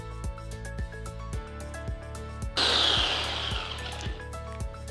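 A blender grinds ginger and spices into a paste, bursting in loud and close partway through over steady background music, then its whirring roar slowly fades and thins out.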